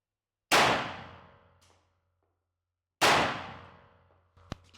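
Two loud, sharp 9mm pistol shots fired from a handgun fitted in a micro compact carbine conversion kit at a range, each with a long decaying echo, spaced about two and a half seconds apart, followed by a brief metallic click.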